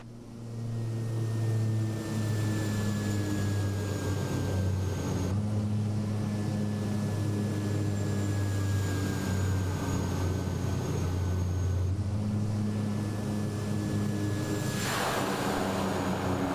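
Engine drone of a light aircraft in Microsoft Flight Simulator 2024, landing at Lord Howe Island in Australia, holds steady and fairly loud with a whining tone, cut by abrupt camera changes and no speech.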